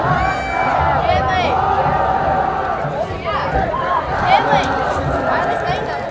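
High school football fans of the Cuero Gobblers fill the visitor-side stands at a game against the Columbus Cardinals, a steady crowd murmur with scattered cheers and voices rising and falling throughout.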